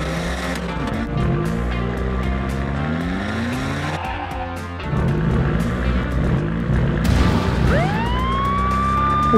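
Cartoon police car racing along with engine hum, tire squeals and skids, its siren rising into a sweeping wail near the end, loud and close throughout.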